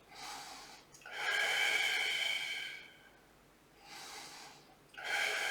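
Audible breaths during a Pilates side bend, several long airy inhales and exhales in a slow, steady rhythm. They are close and moderately loud, with quieter pauses between them and no talking.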